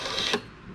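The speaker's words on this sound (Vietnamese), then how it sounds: "Bây giờ mình sẽ ra mình lấy một cái đơn mình in thử cho các bạn xem nha." T80Q thermal receipt printer running briefly, a short faint mechanical whir and buzz with a slight click as it prints.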